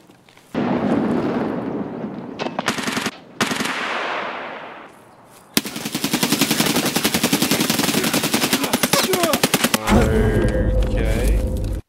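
Rapid automatic gunfire from Escape from Tarkov rattles loudly in long sustained bursts, preceded by a few shorter volleys and pauses, ending in a harsher blast of noise.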